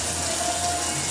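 Warm tap water runs steadily over a freshly caught pike as it is rinsed clean, a brief continuous splashing gush close by.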